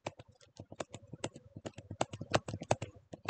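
A computer keyboard is typed on in quick, close succession, crisp individual key clicks in uneven bursts at a quiet level with no talk over them.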